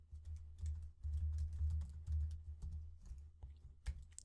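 Code typed on a computer keyboard: a quiet, close run of irregular key taps in bursts with short pauses, faint and alone without talk.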